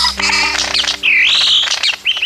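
Bird calls ring out clearly in a Papuan forest, a mix of chirps and a long rising-and-falling whistle, with short tweets trailing off at the end.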